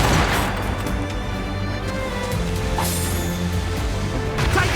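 Naval cannons fire a broadside in Assassin's Creed Rogue, with dense booming blasts and crashing impacts rolling over continuous sea and battle noise, with no clear speech over the barrage.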